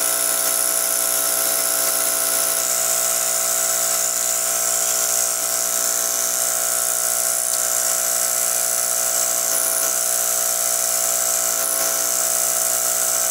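A homemade pneumatic air graver runs steadily with a rapid, high-pitched buzzing whine from its piston moving up and down, a continuous close and fairly loud sound throughout.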